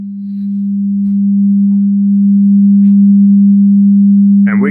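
A steady 200 Hz sine test tone plays through a loudspeaker during a quasi-anechoic measurement, a loud unwavering hum held for several seconds before a brief chirp at the end.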